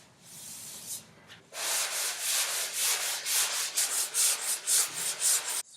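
Sandpaper is rubbed by hand on a car body in a home garage during work on a Ford F100 getting a Crown Vic swap. A loud, close, rhythmic rasp with about a dozen strokes follows a brief quiet start.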